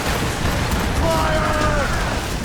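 Heavy booming blasts of ship cannons in Assassin's Creed Rogue, loud and rumbling throughout, with a shouted voice over the barrage.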